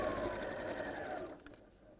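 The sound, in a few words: sewing machine stitching around a curve of a bag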